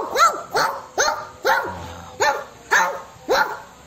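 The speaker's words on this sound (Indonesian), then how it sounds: "dengan menggonggong keras-keras." A dog barks loudly seven times in a steady rhythm, each sharp bark close and clear with short pauses between.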